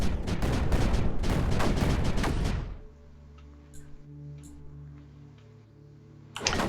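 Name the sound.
cannon and mortar fire in video game Creeper World 4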